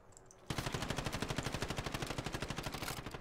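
Rapid automatic gunfire from the Warzone video game begins abruptly and runs as a steady, loud, evenly spaced burst of shots for about three seconds.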